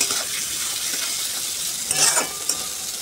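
Vegetables fry loudly in plenty of oil with salt and turmeric, a steady close sizzle with brief stirring scrapes near the end.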